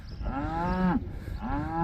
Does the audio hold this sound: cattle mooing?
yes